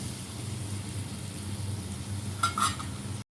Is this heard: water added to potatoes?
yes